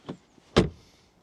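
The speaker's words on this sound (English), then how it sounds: "I think the front door closing sound could use a little bit more low frequency, but it's not bad." A BMW M5 (G90) front door shuts with a solid, close thud, preceded by a brief lighter latch or handle click, heard alone in a quiet space.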